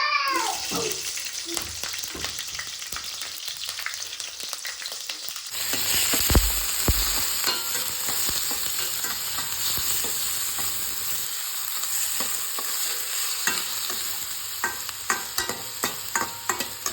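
Hot oil splutters and crackles in a pan while tempering spices for garlic vegetable rice, steady close sizzling with scattered pops and stirring clatter, growing denser partway through.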